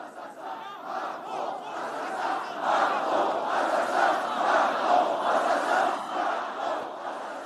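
Large crowd chanting and shouting in unison at a Zemmour presidential campaign rally, a loud, sustained roar of many voices with rhythmic swells, steady throughout.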